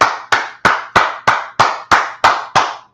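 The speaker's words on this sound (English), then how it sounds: "Clap it up." Nine sharp, evenly spaced claps in a steady rhythm, close and loud, with no talking.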